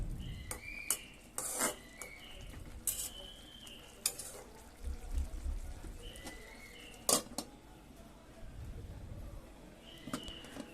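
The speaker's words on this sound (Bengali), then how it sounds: "আমি আবারও নেড়ে চেড়ে কিছুক্ষণ ঢেকে রাখবো আর একটু সিদ্ধ হওয়ার জন্য" Malabar spinach stalks stirred in a cooking pot, giving a series of short scraping and clattering utensil strokes with sizzling underneath, and faint bird calls in the background.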